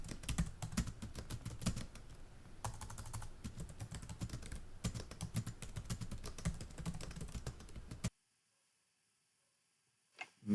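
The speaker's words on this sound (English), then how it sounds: "Let's put in our password." Rapid keystrokes on a computer keyboard as a password is entered, steady close-up clicking for about eight seconds before falling silent, with one faint tap near the end.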